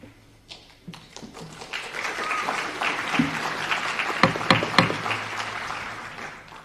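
Applause from the audience at an annual town meeting in Dover, rising from scattered claps into steady clapping that peaks in the middle and fades out, moderately loud and heard alone in a hall.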